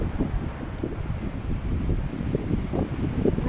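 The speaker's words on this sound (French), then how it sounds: "Le vent est un peu frais" Cool morning wind gusting across a beach, a steady low rumble of buffeting and microphone noise with faint surf beneath, continuous and fairly loud throughout.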